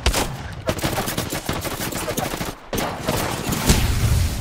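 Rapid video game gunfire rattles loud and close in dense bursts, with a brief pause midway before the shooting resumes, and a voice speaks faintly beneath it.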